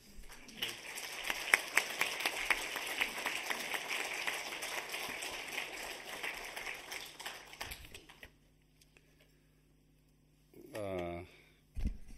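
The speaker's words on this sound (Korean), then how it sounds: "나오실 때 다시 한번 크게 박수로 우리 목사님을 맞이하도록 하겠습니다." A church congregation at an anniversary revival service applauding as their pastor comes forward, a sustained wash of clapping for about eight seconds that fades out, followed by a voice speaking.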